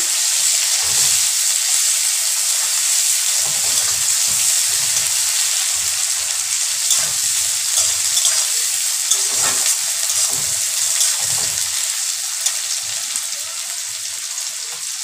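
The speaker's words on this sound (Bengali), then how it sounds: "পেঁয়াজটা দেওয়ার পরে একটু নেড়ে চেড়ে নেব।" Onions frying in oil for a spicy snakehead fish curry, a dense continuous sizzle like light rain, with soft scraping as they are stirred in the pan throughout.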